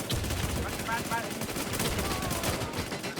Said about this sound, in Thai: ใครมันยิงอะไรนักหนาเนี่ย